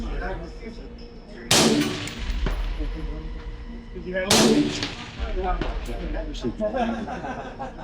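Two loud, sharp gunshots ring out at an outdoor shooting range a few seconds apart, each followed by a decaying echo, with people talking and chuckling around them.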